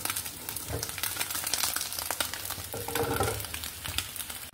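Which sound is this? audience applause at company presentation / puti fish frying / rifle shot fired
puti fish frying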